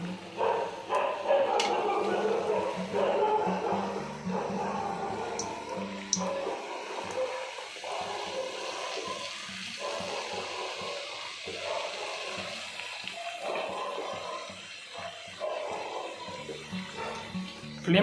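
Peas sizzle steadily in hot oil over a low flame as they are dropped in one by one to make crispy fried peas. The hiss is continuous and fairly loud, with small crackles.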